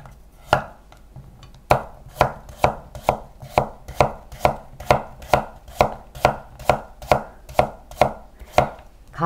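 A kitchen knife slices an autumn radish into thin square pieces for oyster soup, about seventeen crisp, evenly paced chops landing sharply on a cutting board, close and loud with no talking.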